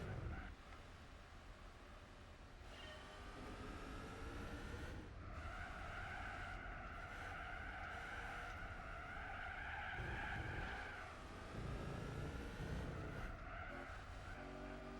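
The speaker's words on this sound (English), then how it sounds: "This is driving an Audi." An Audi race car in Gran Turismo 4 roars around a twisty track, engine revving up and down through corners with long squealing tire skids, loud and continuous.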